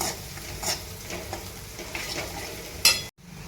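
Onions sizzle steadily in a frying pan, a close, continuous crackle broken by a few scrapes and clinks of a stirring utensil before a brief cutoff.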